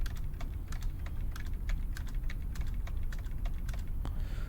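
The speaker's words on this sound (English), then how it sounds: "why click it once when you can click it 3 times?" Computer mouse clicks, sharp and quiet, repeat in quick irregular bursts over a low steady hum in an indoor room with no talking.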